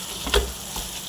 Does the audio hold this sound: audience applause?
no